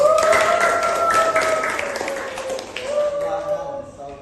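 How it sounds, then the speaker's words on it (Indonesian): Classroom applause for a student group, a short burst of light clapping that fades under a sustained tone and faint voices. "Kita kasih tepuk tangan."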